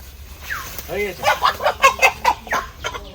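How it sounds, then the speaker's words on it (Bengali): A broiler chicken clucks and squawks in a run of short, loud calls while it is caught in a netted corner, with wing flaps and scuffling around the calls and people talking nearby. "মুরগিটা কিন্তু ব্রয়লার মুরগি"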